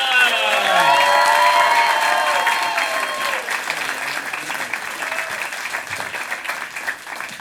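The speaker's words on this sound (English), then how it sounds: "A big round of applause for Leo Garcia!" A comedy club audience claps and cheers for comedian Leo Garcia as he takes the stage to headline, with whoops and shouts rising over the start before settling into sustained, loud applause.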